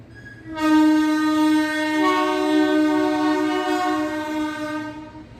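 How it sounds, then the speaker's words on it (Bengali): A train horn sounds long and loud with steady rumble beneath, holding its tone for several seconds before fading slightly at the end. "ট্রেন যাচ্ছে"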